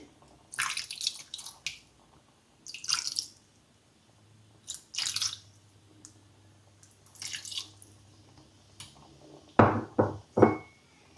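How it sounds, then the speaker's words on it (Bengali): Water poured in small splashes into a pot of spicy pickled goat-meat curry (achari mutton) for an Eid dish, with several short wet bursts separated by quiet, then a few sharper splashes near the end. "এখন আমি একটু সামান্য পরিমাণ পানি দিয়ে দিচ্ছি।"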